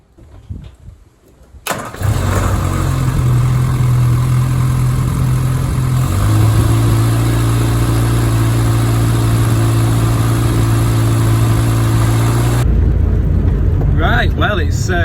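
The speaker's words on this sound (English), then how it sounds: "run the engine" A classic Mini's engine cranks and fires after a quiet start, then settles into a loud, steady idle that runs close by for about ten seconds before the pitch shifts and a higher, rougher mechanical noise takes over.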